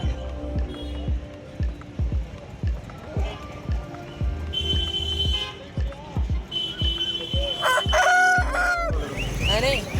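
A fighting rooster crows at a busy Sunday pet market in Madurai, its calls rising over steady clucking fowl and crowd bustle, with people talking nearby throughout.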